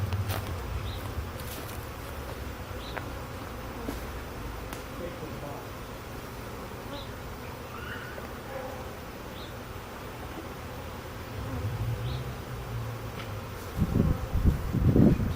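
Bees buzz in a low steady drone while being installed into a hive in Ravenswood, Chicago, with occasional rustles and a louder handling bump near the end.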